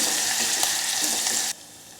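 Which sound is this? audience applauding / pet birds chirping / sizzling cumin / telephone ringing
sizzling cumin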